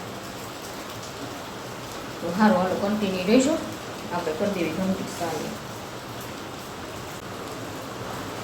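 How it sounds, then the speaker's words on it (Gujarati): Steady rain falls throughout, a constant soft hiss, while a person talks over it in the middle. "હવે તો વરસાદથી થાકી ગયા"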